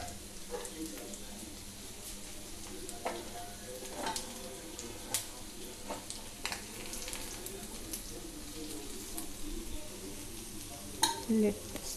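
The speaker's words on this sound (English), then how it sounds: "We have to fry the other side also until they get into a golden brown color." Fish pieces fry in oil with a soft continuous sizzle, broken by occasional scrapes and clinks of a utensil against the pan, close and moderately quiet.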